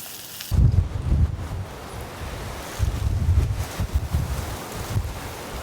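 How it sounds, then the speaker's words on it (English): Strong wind gusts rush over a ridge at a rainy campsite with a tent and tarp, buffeting the microphone in deep rumbling surges that rise and fall over a steady background roar. "These gusts are really starting to come in."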